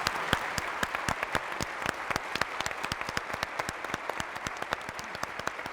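Audience applause in a university hall at a literary talk with Irene Vallejo, made of crisp individual claps from a modest crowd, steady and fairly close for several seconds.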